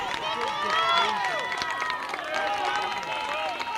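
Loud high-school baseball crowd at a regional tournament game, a dense wash of shouts, whistles and cheering voices at a steady level with some clapping.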